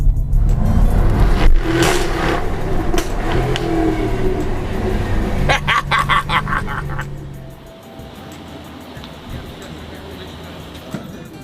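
A 2020 Jaguar F-Type V8 R engine fires up and revs loudly, a deep roar with sharp rising bursts, then drops to a lower steady idle.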